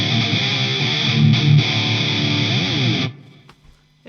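A heavily distorted electric guitar through a Mesa Triple Rectifier Rev G tube amp chugs out a dense, saturated riff for about three seconds, then cuts off abruptly, leaving faint residual noise.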